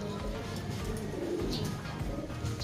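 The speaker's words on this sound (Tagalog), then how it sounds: "Gaganda ng mga ibon" Racing pigeons cooing inside a large loft, soft low murmurs under a steady background hum, fairly faint.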